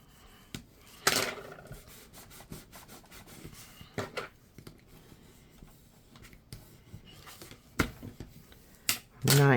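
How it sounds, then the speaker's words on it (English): A paper pocket on a handmade autumn greeting card folio is burnished, giving intermittent close rubbing and scraping strokes with a few sharper bursts, faint and spread unevenly between quiet pauses. "So I'm going to go ahead and burnish that bottom pocket."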